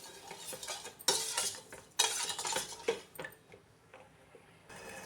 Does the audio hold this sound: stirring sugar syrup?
yes